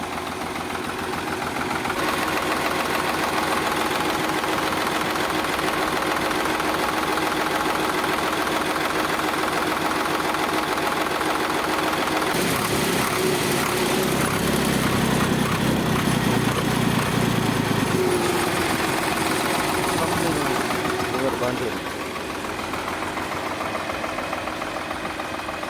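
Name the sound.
Swaraj tractor engine idling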